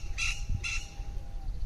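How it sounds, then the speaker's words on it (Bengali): Birds near a village canal give two short harsh squawking calls in quick succession, moderately loud over faint background noise. "আর সুন্দরভাবে আওয়াজ করে পাখিগুলো উড়ে গেল"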